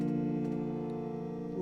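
A PS3-based synth plays a sustained harmonic drone with a reverb effect, its steady layered tones ringing evenly throughout at moderate loudness, with no voices.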